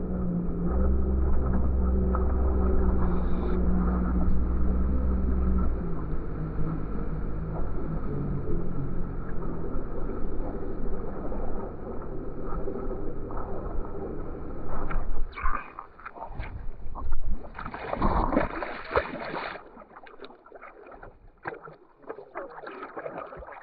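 A Yamaha one-litre jet ski runs on open water, its engine droning steadily before the sound turns choppy. Bursts of spray, wind buffeting and surging revs follow.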